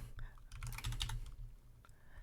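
Keystrokes on a computer keyboard entering a Linux command: a quick burst of clustered clicks mid-clip with a few scattered taps before and after, fairly close over a low steady hum.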